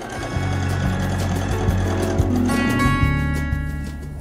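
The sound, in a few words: sewing machine stitching fabric strips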